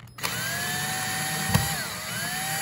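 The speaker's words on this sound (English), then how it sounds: "let me grab my drill and we can back those 2 screws out" A cordless power drill whirs steadily in reverse, backing two screws out of a hard-wired smoke detector's mounting base plate, one continuous close run with a slight pitch dip near the end and no talk.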